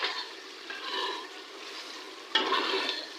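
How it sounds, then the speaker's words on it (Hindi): Mutton for aloo gosht is sautéed in a pot with small splashes of water, giving a steady soft sizzle with spoon scraping and stirring, a sharper scrape near the end, and no talking. "अगर ज़रूरत पड़ी तो थोड़ा थोड़ा पानी लगा लगा के इसको तकरीबन 5-6 मिनट तक अच्छे से भूनेंगे"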